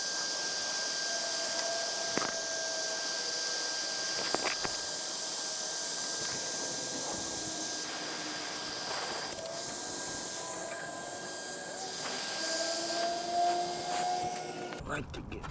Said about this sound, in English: we're gonna take the heat gun and melt some of that snow